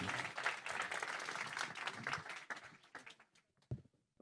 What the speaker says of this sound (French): on vous applaudit tout de suite, Cédric Villani